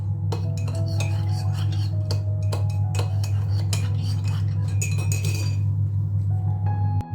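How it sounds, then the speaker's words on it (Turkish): A spoon clinks steadily against a glass while a homemade Fanta-style orange drink is stirred, sounding as quick, bright, repeated taps over a constant low hum, with no voices. "Bunu iyice karıştırıyorum."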